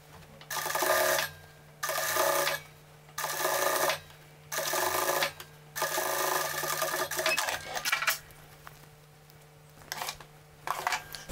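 A sewing machine stitches a polo shirt in repeated bursts of steady, close whirring, each lasting about a second and separated by short pauses, over a constant low hum, with no talking.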